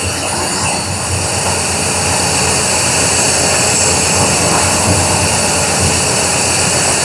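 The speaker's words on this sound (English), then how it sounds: "I'm sure that pump's not supposed to draw that much." Electric fuel pump running on a 1973 Camaro with FiTech fuel injection and a crank no-start fault, drawing excess current; a loud, constant whining drone with a high steady tone, unbroken throughout and heard alone.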